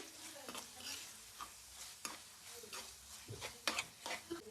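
Egg rice ingredients are stirred and mixed in a frying pan, a faint background sizzle broken by irregular spatula scrapes and knocks against the pan.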